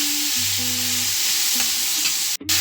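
Onions fry in a pan over medium heat with a steady, loud sizzle throughout, a low electrical hum underneath and a brief dropout near the end; no one speaks.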